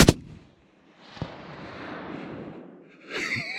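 A sharp, loud rifle shot cracks at the start, followed by a smaller report and rumbling echo, then a second shot near the end, during a red deer hunt in New Zealand's South Island.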